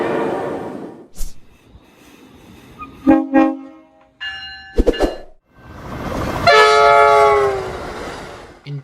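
A video game electric train rumbles past amid mechanical clanks, then a loud multi-tone horn blares for a couple of seconds near the end.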